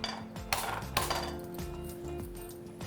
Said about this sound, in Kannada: ಮೊದಲಿಗೆ ಬಾಣಲಿ ಇಟ್ಟು ಸ್ಟವ್ ಆನ್ ಮಾಡೋದು.